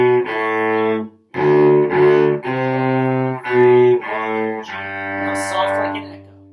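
A cello plays the B section of the Suzuki piece Long, Long Ago loudly, sounding sustained bowed notes in a clear melodic phrase, close and alone with no talk.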